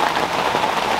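Heavy rain pours down in a dense, constant hiss of drops hitting a surface, loud and close with no break.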